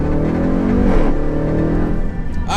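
A Jeep Trackhawk SUV with a 707 horsepower Hellcat engine accelerates hard, its loud, close engine rising steadily in pitch as it pulls through the gears.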